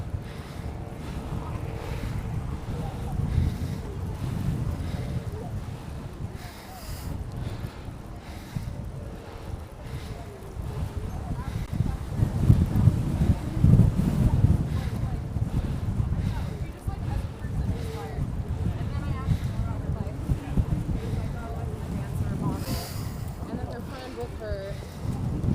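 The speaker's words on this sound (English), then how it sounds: "Oh, the wind." Wind gusts buffet the microphone at the top of the Transamerica Pyramid in San Francisco, a continuous rough low roar rising and falling over about half a minute, with people talking at times.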